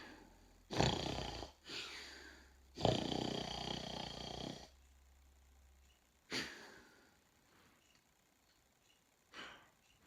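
A human voice imitates a sleeping wolf's snoring: three long, loud rasping snores, each followed by a fainter exhaling snort, separated by quiet pauses.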